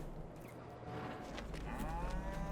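Cattle low softly in the Farming Simulator 22 farm video game, with a couple of drawn-out moos over a faint steady background. The sound is quiet and distant, and no one talks.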